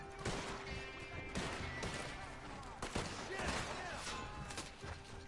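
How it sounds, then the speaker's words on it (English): A Maxim machine gun fires in Red Dead Redemption 2, with rapid, sharp reports punching through a steady din of battle noise, loud and close, while people talk over it. "it's another one that has one of those Maxim guns"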